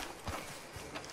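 Horse hooves clip-clop in Red Dead Redemption 2, a few soft irregular hoof strikes over a faint, noisy in-game background with no talking.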